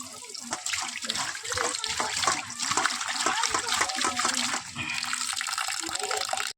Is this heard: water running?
yes